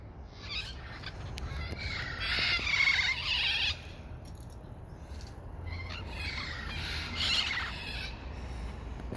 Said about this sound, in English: Love parrots.